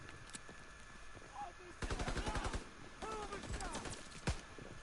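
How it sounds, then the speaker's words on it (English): Rapid bursts of video game gunfire during a battle, with quick automatic volleys and a sharp single crack near the end, all under a steady background hum. "Taking enemy fire."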